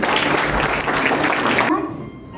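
Audience applause at a school drama performance, a dense burst of clapping that runs strong for under two seconds, then cuts off to quiet room tone.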